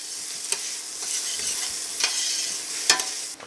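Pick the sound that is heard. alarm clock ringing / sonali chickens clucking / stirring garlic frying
stirring garlic frying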